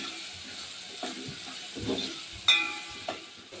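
Green chickpeas with red chilli powder sauté in a pan, making a quiet sizzle punctuated by a few scraping stirs and a sharper clink near the end.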